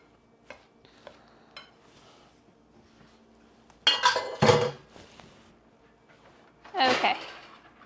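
Metal baking pans clank and clatter as they are handled in a home kitchen, a few light taps first and then two louder bursts of rattling, with no talk.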